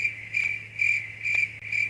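Crickets chirp steadily in a rhythmic pulsing pattern, a high shrill trill repeating about every half second over a low steady hum, fairly close and continuous with no talking.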